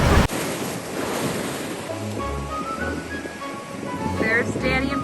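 Ocean surf rolls in steadily at rocky tide pools along the coast, a broad loud wash with wind buffeting the microphone, while people talk over it.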